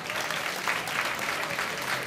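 A concert audience claps steadily at a 2014 anniversary show for a band, at the Metropolia Jest Okey event. The dense, even applause fills the whole moment at moderate volume, with no clear voices standing out.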